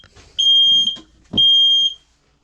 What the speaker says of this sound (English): We've got a carbon monoxide alarm here and a smoke alarm on the van as well. Okay, so we'll just test it there working.